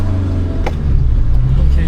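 Steady traffic on a German autobahn, heard from inside a Pride car, with a continuous low road and engine rumble that swells midway as vehicles stream past; voices talk over it.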